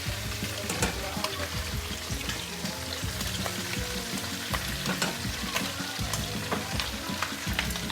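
Gumbo with chicken sizzling and frying in a pot while being stirred, a dense, continuous crackling sizzle with steady scraping strokes, close and loud, with no talking over it.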